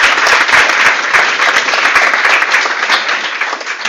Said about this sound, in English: Big round of applause for Ruben.